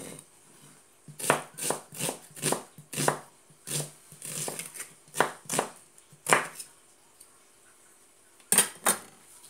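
Half an onion is chopped with a knife, giving a quick series of sharp, close knocks on a cutting board in irregular bursts with short pauses, and no talking.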